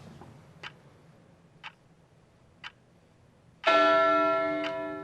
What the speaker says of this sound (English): So if we could start the timer to show you the timing sounds.